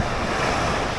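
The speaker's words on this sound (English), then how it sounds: "I think the waves are too high today" Ocean waves breaking continuously on the shore at Cancun, Mexico, a steady loud wash of surf with wind noise buffeting the microphone, no voices.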